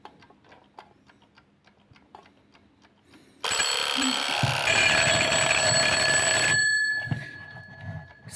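A wind-up chicken-shaped alarm clock ticks steadily, then bursts into a loud metallic bell ringing for about three seconds before stopping, leaving the soft ticking again.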